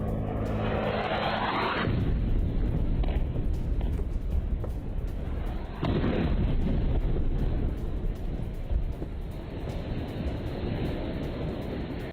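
Bombing of a Hamas building in Gaza: a deep blast hits at once and swells into a long, loud, rumbling roar. A second surge of rumble follows before it slowly fades, with no voices.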